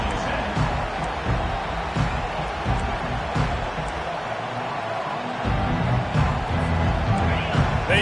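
A stadium crowd at a football game roars steadily and loudly throughout, swelling near the end, with a commentator's voice running over it.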